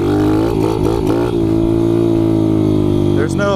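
Kawasaki KLX 110 pit bike engine running steadily at a high buzzing pitch, with brief revs wavering early on, close and loud throughout.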